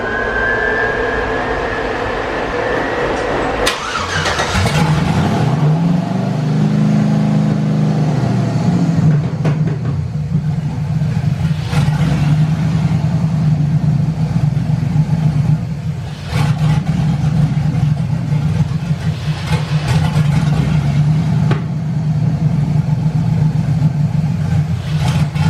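An LS V8 engine in a Blazer cranks and catches after a few seconds, then settles into a loud, steady, rumbling idle close by, with small throttle blips and no talking.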